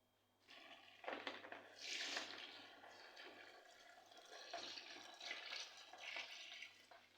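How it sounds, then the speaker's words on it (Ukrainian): Water pours steadily into a bucket with a hollow, splashing rush that rises and falls over several seconds, close by and fairly loud. "Наливаємо тепер 10 літрів води."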